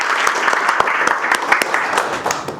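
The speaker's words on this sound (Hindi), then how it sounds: "एक बार अपनी फैमिली के लिए जोरदार ताली बजाओ" A class of students claps loudly and together during a training session, a close, energetic burst of many hands with sharp individual claps standing out, continuing steadily throughout.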